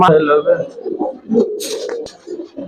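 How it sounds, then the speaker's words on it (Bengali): Old-breed Lalbagh Giribaz pigeons coo in a loft while sitting on their eggs. The low, throaty coos come close and loud in overlapping rolling phrases, with a brief flutter partway through. "প্রত্যেকটা কবুতর ডিমের উপরে আছে ভাই, প্রত্যেকটা কবুতর।"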